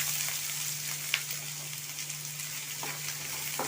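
Two large chopped onions fry steadily in hot oil with cinnamon and cloves for a paneer gravy, a loud continuous sizzle broken by a few light scrapes of a spoon stirring the pan.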